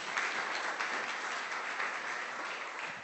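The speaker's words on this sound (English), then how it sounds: "Let's give her another round of applause." A conference audience gives a round of applause for a speaker on chatbots in business, a steady patter of many hands clapping, fairly soft and even across its brief length, with no talk.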